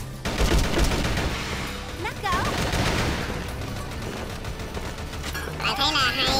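An M4A1 rifle in an online shooter fires repeated bursts of rapid gunfire, with other shots and game effects around it and a commentator talking over the action.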